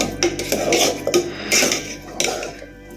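A spoon scrapes and clatters around a pot of sakkarai pongal, the sweet Tamil rice dish, in a few loud, rhythmic stirring strokes up close.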